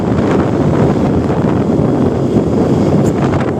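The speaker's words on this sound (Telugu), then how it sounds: "భలే ఉంది కదా గాలి" Strong wind buffets the microphone on a beach road ride by scooter, a steady loud rumbling roar that fills the whole stretch without pause.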